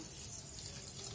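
Water is poured over 250 grams of sugar in a pan to start a sugar syrup, a brief, close, steady trickling splash.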